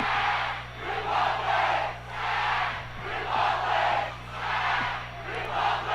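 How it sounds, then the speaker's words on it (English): Stadium crowd at a Sacramento Republic FC versus Orange County Blues FC soccer match chanting in rhythmic surging waves, a repeated chant rising and falling about once per second with steady low hum beneath, heard from a distance. "Crowd getting to it in below us here."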